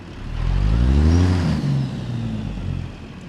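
A Cat C15 diesel truck engine with a Zeemods sound pack in American Truck Simulator revs up in a rising, throaty swell, peaking briefly before the note falls and settles into a steady loud drone, no voices.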